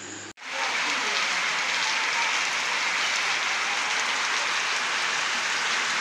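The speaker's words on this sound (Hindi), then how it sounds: "बहुत तेज़ बारिश लगी हुई है, बहुत तेज़" Heavy rain pours down steadily in a village setting, a dense continuous hiss that starts abruptly after a brief thump and holds loud and unbroken throughout.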